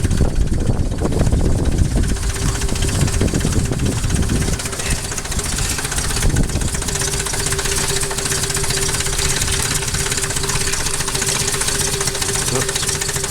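A 1993 Toyota 22RE truck engine idles roughly and sags toward a stall, a steady low rumble with wind noise that drops in level partway through, leaving a thin steady hum.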